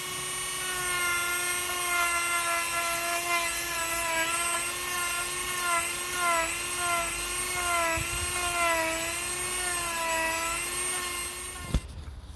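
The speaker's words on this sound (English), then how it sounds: "So I've been drilling and carving now" A power drill whines steadily while carving deadwood on a hornbeam, its pitch wavering as it bites, then it stops abruptly with a sharp knock at the end.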